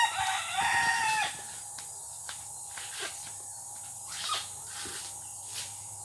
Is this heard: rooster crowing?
yes